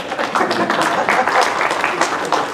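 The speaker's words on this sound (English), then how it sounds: "We don't usually get applause this early." An audience applauds at a League of Women Voters candidate forum for a U.S. House district, with steady dense clapping throughout a short stretch and voices mixed in beneath it.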